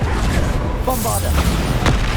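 A Bombarda spell explodes in Hogwarts Legacy with a booming blast, set within a dense, continuous wash of battle noise that stays loud throughout.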